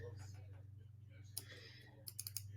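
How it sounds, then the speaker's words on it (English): A computer mouse double-clicking: one sharp click, then a quick cluster of close clicks near the end, set over a steady low electrical hum and faint background voice. "by double clicking."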